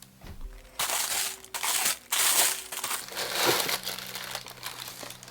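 Packaging crinkles and rustles as a box of Christian Louboutin Hot Chick 100mm heels is opened, with bursts of paper handling that stop and start in an irregular rhythm.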